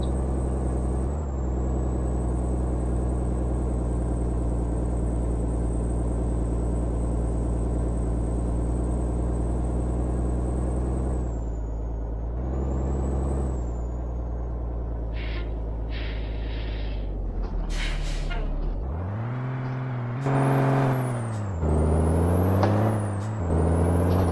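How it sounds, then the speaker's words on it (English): A Freightliner FLD 120 truck engine in Euro Truck Simulator 2 gives a loud, steady drone with a constant high whine for a long stretch, then revs and pitch sweeps rise and fall near the end. "You give me my good engine sounds back now"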